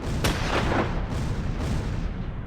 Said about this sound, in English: The Americans come under concentrated artillery fire.